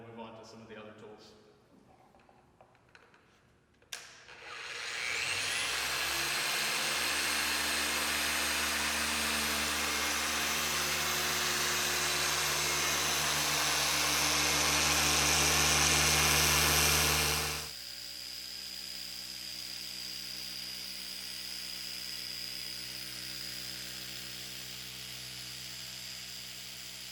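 A 3-inch polisher buffing the fender paint of a Tesla Model 3, spinning up after a few seconds into a loud steady whine with a slight pitch rise, then dropping to a quieter hum; speech is heard over it.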